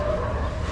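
A dog barks and yips in a quick, close burst under a steady, busy background, lasting less than a second.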